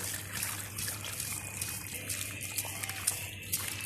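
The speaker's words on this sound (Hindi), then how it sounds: "तो कद्दू आलू को हम अच्छी तरह से धो लेंगे।" Cut pumpkin and potato pieces are washed under running water, a steady close trickle and splash with occasional sharper drips, and no voices.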